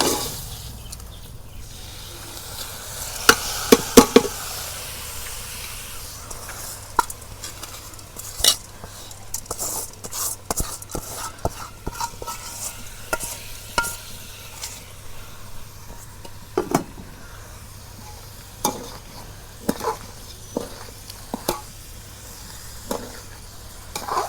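Soaked rice frying in oil in a pot for beef biryani, with a low steady sizzle under repeated scraping and clinking of a metal spoon stirring against the pot.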